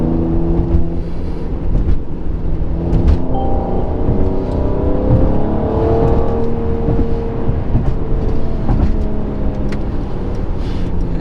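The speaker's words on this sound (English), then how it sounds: "Oh, that exhaust sounds amazing" A Mercedes-AMG's exhaust drones and revs as the car drives, loud and close, with rising and falling engine tones over steady road roar for the full stretch, no talk.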